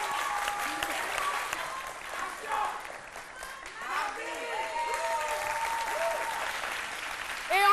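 A studio audience at a live Ivorian midday TV show applauds steadily and fairly evenly, with voices and a few whistles running through the clapping.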